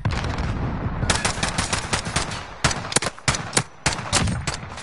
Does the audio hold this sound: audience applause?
no